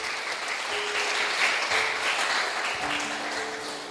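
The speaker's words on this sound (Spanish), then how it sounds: "Dale fuerte palmas al Señor." A church congregation claps hard for the Lord, a loud sustained wash of many hands applauding together, with faint voices and a few tonal hums underneath.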